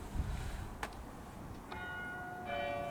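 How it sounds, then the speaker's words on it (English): Church bells chime at a Clitheroe church cemetery, a faint distant strike followed by sustained ringing tones that build and overlap near the end, heard quietly over low ambient background. "The bells have just chimed as well, haven't they?"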